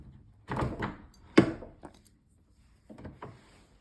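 A door on an automatic closer swings shut faster than it should and has a latching problem, giving a rustling sweep, a sharp thunk, a lighter knock, then softer clatter a moment later, fairly close with no talking.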